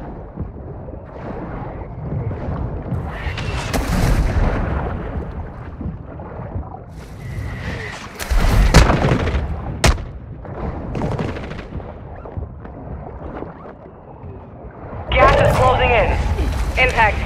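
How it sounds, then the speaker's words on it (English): Mortar strike explosions in Call of Duty Warzone 2 land as several heavy booming bursts among rumbling battlefield noise and scattered gunfire, with in-game radio voices speaking over the action. "Hostile mortar strike incoming. Solid copy. Mortar strike on the way."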